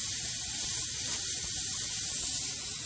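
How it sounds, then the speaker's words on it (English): A pressure canner full of green beans vents steam in an even, unbroken hiss, close and loud, with no talking over it. "there's our steady pressure of steam"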